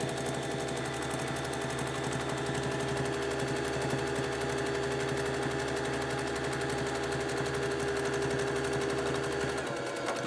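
A sewing machine runs at a steady, fast rhythm, stitching fabric pieces one after another in chain piecing for a bowl cozy, close and continuous without talk, stopping just before the end.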